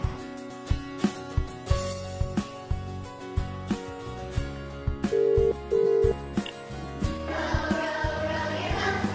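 A telephone rings with an incoming call, two steady electronic ring tones in the middle, heard over rhythmic background music with sharp beats.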